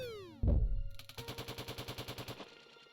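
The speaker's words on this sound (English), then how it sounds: "it sounded like some kind of cave-in" Rumbling cave-in or explosion in the indie adventure game Ocean's Heart: a heavy low boom hits suddenly, then a rapid, rhythmic rattling rumble pulses for a couple of seconds before fading, with no voices.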